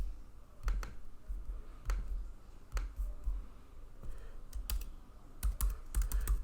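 Scattered keystrokes on a computer keyboard while Python code is typed, coming in irregular bursts of clicks with short pauses between them, close and fairly quiet, with no voice.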